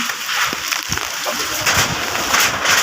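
Steady broadband rush of strong typhoon wind (Typhoon Kristine) with a soft patter of light rain, continuous and fairly loud, with faint low thumps underneath.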